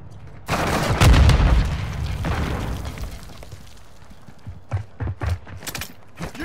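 A grenade goes off in Call of Duty MW II multiplayer: a loud, booming blast with a long rumbling tail. Scattered gunshots and thuds follow in the background, and no one speaks.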